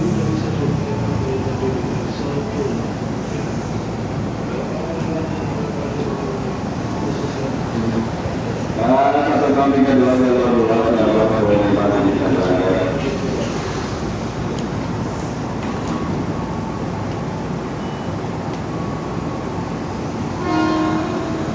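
A KRL commuter electric train at UI station runs with a loud continuous rumble and rushing roar, with a brief rising whine partway through as it moves off toward Bogor.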